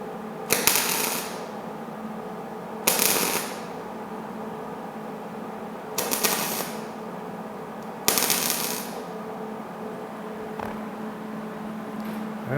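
A fender flange is tack welded on a 1950 Chevy truck. Four short, bright crackling bursts come at irregular intervals over a low steady hum, with no speech.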